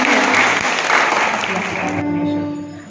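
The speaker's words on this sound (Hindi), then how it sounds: "तालियां बजा दीजिए" A church congregation at a Sunday School Day celebration claps together in sustained applause for a quiz prize winner, steady and fairly loud before tapering off.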